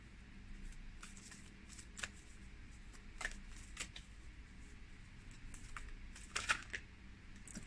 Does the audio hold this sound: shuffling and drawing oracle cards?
yes